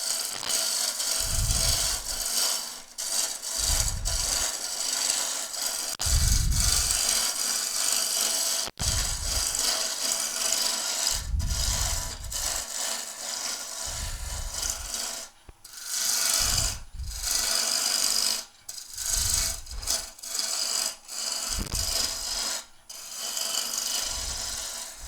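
A roughing gouge rough-turns a wooden spindle on a lathe, giving a continuous scraping, rasping cut with repeated rhythmic low thumps as the tool bites, close and loud throughout, with no talking.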